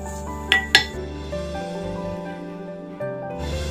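A metal lid is set onto a pan of raw jackfruit thoran, giving two quick, bright clinks close by, then a low steady hum of cooking with no talk.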